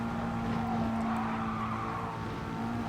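A McLaren race car engine in Gran Turismo Sport at Spa, a steady, loud sustained drone held at an even pitch while climbing a hill in the slipstream, with no talk over it.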